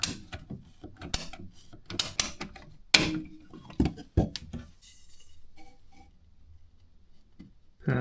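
A pair of cutters snips through shower pipe with a burst of sharp metallic clicks and crunches in quick succession, close and fairly loud, then tapers off to near silence with a faint hiss.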